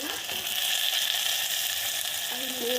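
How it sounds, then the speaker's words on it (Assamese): Kohlrabi, ridge gourd and potatoes fry in a pan with a steady close sizzle, broken by a few light scrapes near the end. "এতিয়া মই প্ৰথমে চব্জিখিনি ভাজি ল'ব লাগিব।"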